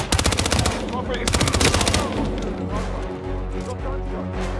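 Automatic gunfire in the video game Hitman 3 rattles in rapid loud bursts for about two seconds, then fades into scattered shots and background game sound.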